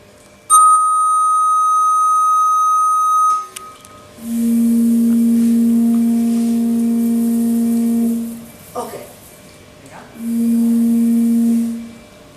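Sustained pure electronic tones, first a high one and then a lower one played twice, drive a metal plate sprinkled with salt in a science museum demonstration, each tone steady and loud for several seconds with short gaps between.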